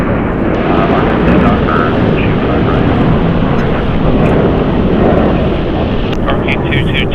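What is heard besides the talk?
airliner taking off from LAX runway 25 right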